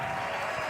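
Church congregation applauding to acclaim God as king, a brief dense burst of clapping from many hands, steady and close, with a faint murmur of voices.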